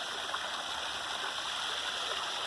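A small waterfall and trickling stream inside a city give a steady, continuous rush and gurgle of running water, close and even throughout, with no voices.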